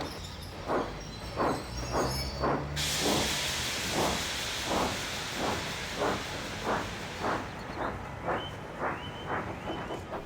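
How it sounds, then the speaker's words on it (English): A little steam tank engine puffs away at a steady, even rhythm, with sharp exhaust chuffs repeating about twice a second under a loud continuous hiss of steam that fades partway through while the puffing carries on. "the little tank engine puffed away"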